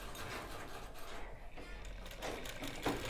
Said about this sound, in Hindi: तो इस पे हम सिलाई लगा लेंगे।